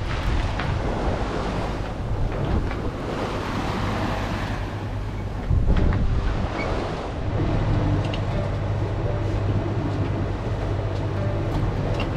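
A sailing boat pushes through choppy sea off northern Spain, with continuous rushing waves and heavy wind buffeting the microphone, plus a louder splash or thump midway.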